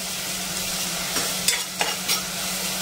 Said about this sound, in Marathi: आता ते वाटण आपण त्याच्यामध्ये घालून घेणार आहोत। वाटणही आपल्याला छान असं परतून घ्यायचं आहे।